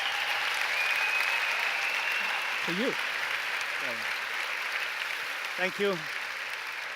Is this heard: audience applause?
yes